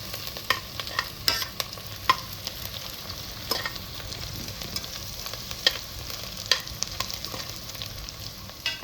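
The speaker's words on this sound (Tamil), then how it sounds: "இப்போ நான் வெங்காயம், பச்சை மிளகா எல்லாம் போட்டு சூப்பராக அருமையாக வணக்கிட்டு இருக்கிறோம்." Chopped onions and green chillies sauté in a hot pan while being stirred for chicken gravy, a steady sizzle broken by frequent scraping clicks of the spatula, close and continuous.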